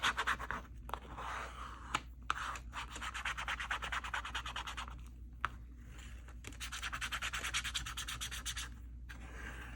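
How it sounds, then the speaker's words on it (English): Close rubbing and scratching strokes as a paper index card mini folio is burnished, rhythmic back-and-forth passes in bursts separated by short pauses, with no voices. "now I am going to burnish this as well"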